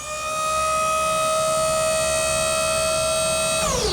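Hydraulic bed of a dump trailer lowering, giving a loud, steady high whine like a siren that holds level for several seconds before its pitch drops as it stops.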